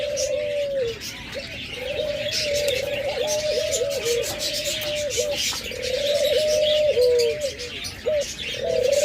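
Doves coo in a steady, repeated pattern from birds kept for sale, with overlapping soft rolling calls that run almost continuously, close by, over a background of faint chirping from other cage birds.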